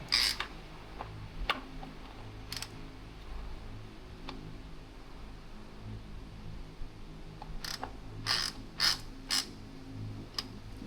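Faint mechanical clicks and ticks from the ratcheting mechanism of HogWorkz motorcycle floorboards come in scattered bursts over a low background hum, with no one speaking.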